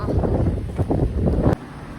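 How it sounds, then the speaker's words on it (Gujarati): Wind blows at an outdoor spot, buffeting the microphone in loud, low gusty rumbles that end abruptly near the close, leaving a quieter hiss; no clear speech. "પવન બહુ મસ્ત છે"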